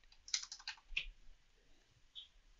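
Quiet keystrokes on a computer keyboard: a short cluster of quick clicks, then a single tap and one more click after a pause.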